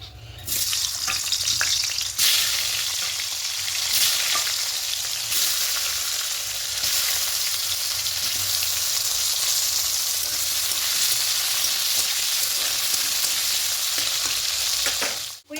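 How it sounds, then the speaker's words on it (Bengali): Potatoes frying in hot oil for a Bengali fish-head and soy chunk dish, a steady loud sizzle with a few scraping stirs, close and continuous with no talking. "এবারে তেলের মধ্যে প্রথমে আলুগুলোকে ভেজে নেবো"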